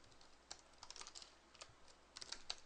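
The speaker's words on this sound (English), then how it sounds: "I guess I might as well type it, I'm not that lazy" Quiet typing of Java code on a computer keyboard, a quick irregular patter of key clicks close by, with faint background hiss and no speech.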